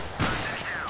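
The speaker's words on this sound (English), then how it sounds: "It's okay if I just keep randomly firing, right?" Gunfire in the video game Total Conflict: Resistance, a sharp burst of shots cracking out at close range, followed by a ringing tail.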